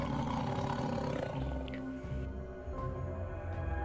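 A tiger roar sound effect, a deep rumbling growl that swells and sustains for several seconds before tapering off, loud and close with no speech over it.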